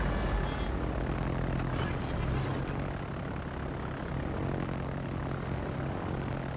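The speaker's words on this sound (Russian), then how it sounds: "Истребитель взлет произвел." Fighter aircraft launching in a naval combat video game, a steady loud engine roar that holds through the whole stretch, alone with no speech over it.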